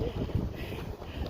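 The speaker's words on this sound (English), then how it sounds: "And it got windier." Wind blowing steadily at an outdoor spot near Mt. Rushmore, a broad rushing noise that fills the whole short moment with no clear gusts or other sounds.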